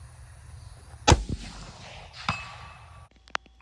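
A single sharp shot from a .30-06 rifle fired off a bipod toward a 500-yard target, a loud near crack with a short tail, followed by a fainter distant report and a tiny far-off ping near the end.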